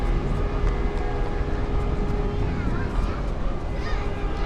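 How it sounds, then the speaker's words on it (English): Boeing 777 jet engines roar and whine at Zurich Airport, a loud sustained rumble with steady tonal hums as the aircraft sits near the stand, while people nearby stay mostly quiet. "777, as you can hear, listen to us, we're all quiet now so we can appreciate those engines."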